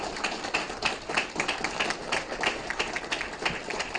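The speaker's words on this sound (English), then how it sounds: "Let's give them all one more big round of applause." An audience gives a round of applause at a community conversation event, steady dense clapping lasting throughout, moderately loud with no speech over it.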